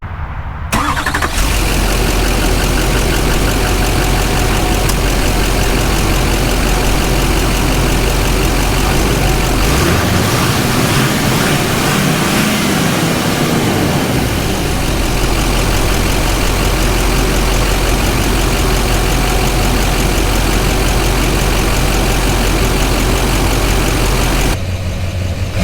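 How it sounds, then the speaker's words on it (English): An older pre-emissions Duramax diesel truck engine cranks and starts, then idles loudly and close with a steady diesel clatter, rising into a brief deeper rev midway before settling back to idle. "I'm gonna start it up and, you know, give us some revs so you guys can kind of hear how it sounds."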